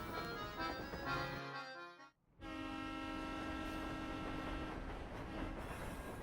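A train in Professor Layton and the Pandora's Box rolls along iron tracks with a steady rumbling drone and a sustained horn-like tone, briefly cutting out before continuing loud and continuous.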